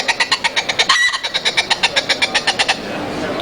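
A hand-blown predator call imitating a chicken cackle gives a rapid, evenly spaced run of sharp pulses for nearly three seconds, loud and close, before stopping.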